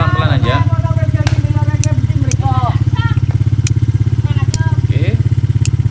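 A Sharp two-door refrigerator's compressor and fan run with a loud, close, rhythmic pulsing hum, while someone talks over it and brief clicks and knocks sound from handling the unit.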